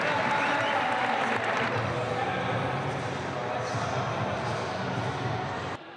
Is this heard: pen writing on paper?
no